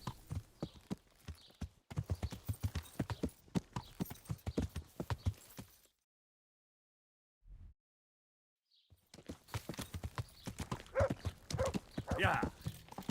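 Horse hooves clip-clop in Kingdom Come: Deliverance while a rider travels, the steady hoofbeats sitting under nearly continuous talk, with a short quiet break midway.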